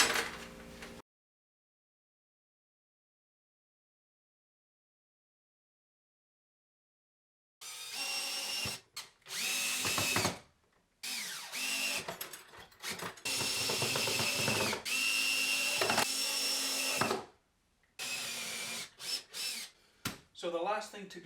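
A power drill driving screws to mount a folding wooden dowel holder onto a workshop cabinet, heard as several loud bursts of whirring and rattling clatter with short pauses between them, following a long silent stretch.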